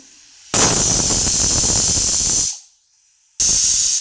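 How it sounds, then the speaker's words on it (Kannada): A pressure cooker whistle blasting steam while moong dal cooks, a loud sharp hiss lasting about two seconds that cuts off, then a second burst starts after a short pause, with no talking. "ಇನ್ನೊಂದೆರಡು ವಿಸಿಲ್ ಬರಲಿ"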